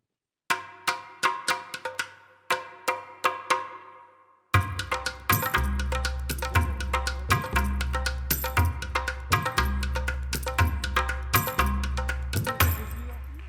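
A short show jingle plays at a tourism conference workshop: a few bright, bell-like struck notes ring out alone, then a loud thumping bass beat joins under steady repeated chiming hits.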